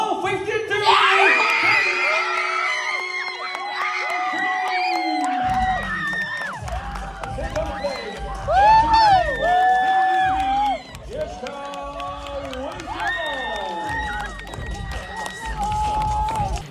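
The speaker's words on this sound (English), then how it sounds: "Hearing her children Cue the video. screaming in the audience because I could hear them." Crowd at a world championship event cheering, with children shouting and screaming from the audience, loud and sustained throughout, with rising whoops and excited voices mixed together.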